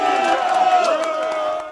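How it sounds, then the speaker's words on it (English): A pro-Russian Crimean crowd cheers and shouts outside the regional parliament, many voices blending into a loud, sustained roar with rising whoops over the short stretch. "Pro-Russian Crimeans cheered well into the night outside their regional parliament."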